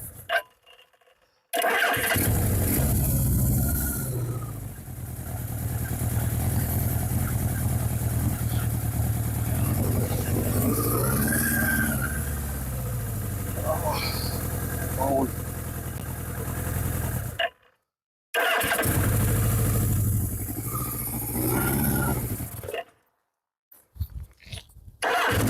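A Suzuki GS750 motorcycle engine cranks and fires up, then settles into a loud, steady idle that runs close by for most of the clip before cutting out briefly and catching again.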